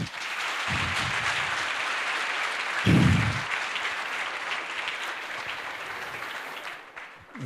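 An alumni-meet audience gives a sustained round of applause for the chief guest, a steady crowd of many hands clapping in a large room, with a brief louder surge partway through and a gradual fade near the close.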